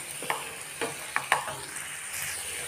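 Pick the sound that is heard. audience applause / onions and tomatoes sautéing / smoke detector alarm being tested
onions and tomatoes sautéing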